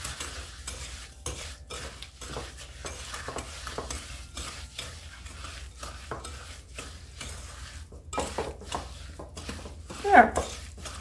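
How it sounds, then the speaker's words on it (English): A Danish dough whisk working through thick dark chocolate brownie batter made with fresh milled flour, giving rhythmic, repeated scraping and slapping strokes against the bowl, close and moderately soft, with a louder knock near the end. "This is called a Dutch or a Danish whisk, and you can see how this just really combines everything nicely."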